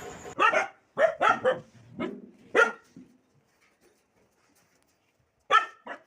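A dog at home barks at a sack: a quick run of loud, close barks, then a quiet pause, then one more sharp bark.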